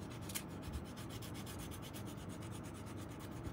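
Sandpaper rubs on the cork of a saxophone neck that is wrapped in tape, making a steady, close, continuous rasping scrape with no talk.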